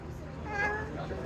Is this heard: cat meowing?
yes